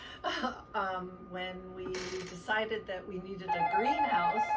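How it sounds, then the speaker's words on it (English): A telephone rings in a home during a recorded conversation, a steady electronic ring rising in the last second or so beneath continuous speech from a person talking about a homestead greenhouse. "I apologize for the phone call."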